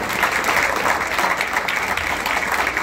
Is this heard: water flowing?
no